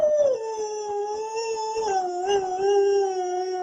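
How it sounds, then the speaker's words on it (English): A dog howling close by in one long, sustained, wavering tone that bends up and down in pitch without a break, with no talking over it. "Good howl, Sophie."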